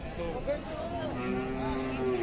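A Khillar cow lows at the Sangola cattle market, a few drawn-out, wavering moos that rise and fall over a constant hum of market bustle.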